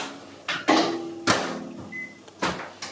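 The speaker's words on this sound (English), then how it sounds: "just basically going to cook this in the microwave" A microwave oven in a home kitchen, a few sharp clunks as the door is handled and food is loaded, then a short beep and a low hum as it starts.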